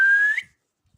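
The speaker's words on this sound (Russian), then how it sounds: "Сейчас я покажу, как я умею свистеть." A man whistles a single clear, sustained note that bends slightly upward before stopping abruptly, close and loud, followed by near silence.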